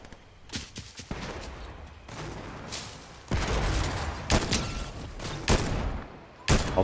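Rapid bursts of gunfire in Fortnite, with sharp, loud shots clustered into volleys over a steady background of game sound, with the heaviest cracks near the end.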